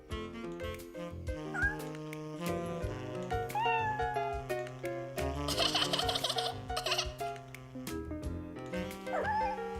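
High little kitten meows rise over a busy background of music and other sounds, several short mews spread across the stretch.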